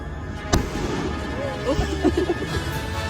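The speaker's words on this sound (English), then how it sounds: "lighting them off one after another for non-stop firework action" Fireworks are lit and launched one after another, starting with one sharp, loud bang and followed by a string of whistling, crackling bursts under a steady background rumble.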